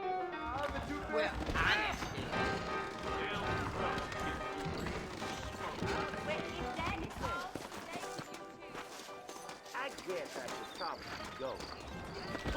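Horses' hooves clatter in a steady galloping rhythm in a Red Dead Redemption scene, running under music and a man's brief spoken line.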